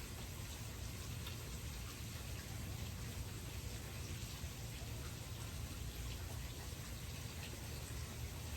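Steady rain falling outdoors after a storm has passed, a faint, even hiss of drops continuing without a break and without any talking.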